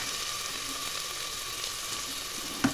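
Chopped onion, cumin seeds and fenugreek frying in oil inside a pressure cooker, a steady broadband sizzle with a brief clink near the end and no talk.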